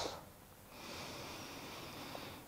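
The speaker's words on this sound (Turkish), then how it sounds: "Derin bir nefes al." A deep inhaled breath from a child in a yoga class, a soft, drawn-out airy rush that swells after a brief pause and holds steady for about two seconds.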